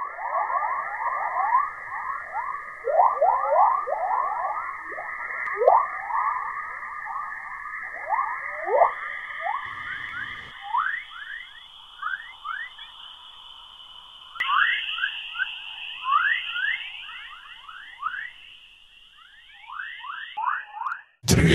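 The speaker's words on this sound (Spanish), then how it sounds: "Como cantos de pájaros suena esta captura de señal, recogida por el M-Physis de la atmósfera del planeta." Dawn chorus radio emission from Earth's atmosphere picked up by a spacecraft, a continuous stream of rising chirps and whistles like birdsong over faint steady tones, with no talk.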